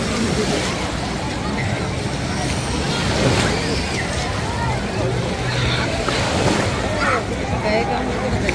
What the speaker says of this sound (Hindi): Nice beachy wave.